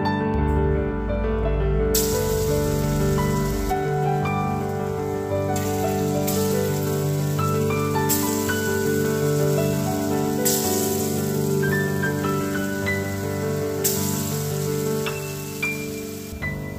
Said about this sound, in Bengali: আমি এবারে এই বড়াগুলো, মটর ডালের যে বড়াগুলো তৈরি করবো, সেগুলো ছোট ছোট করে তেলের মধ্যে দিতে শুরু।